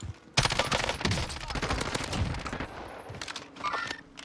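Rapid gunfire in Call of Duty Warzone, with a Ram-7 assault rifle, dense bursts of shots fired close and loud, pausing briefly before a final volley.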